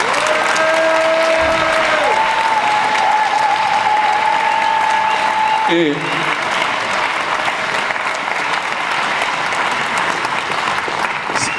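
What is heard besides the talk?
audience applause at a political rally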